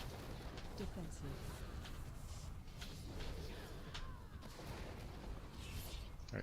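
Video game explosions and gunfire in a busy match, a dense, continuous run of booms and crackling blasts at moderate loudness with voices speaking over them.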